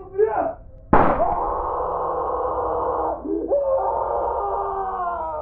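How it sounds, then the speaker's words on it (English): In an animated horror story, a muffled shout is cut off by a sharp, loud gunshot, followed by a long, wavering shriek of pain that fades. "we heard shouting from downstairs followed by a gunshot and shrieks of pain."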